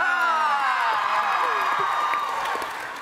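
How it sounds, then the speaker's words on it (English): A large convention audience at TwitchCon screams together in one loud, sustained, high-pitched roar that holds steady and starts to fade near the end. "Everyone just scream,"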